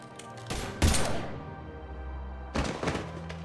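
Gunfire in a Mass Effect video game scene, with two sharp bursts of shots close by near the start and another burst later, over a low rumbling ambient bed.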